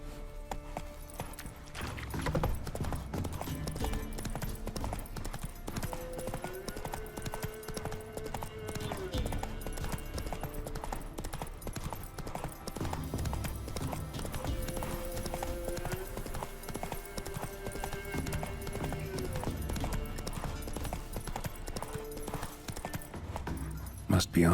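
Steady clip-clop of a horse's hooves on a road in The Witcher 3: Wild Hunt, an even walking rhythm heard close, with faint game music and ambience beneath.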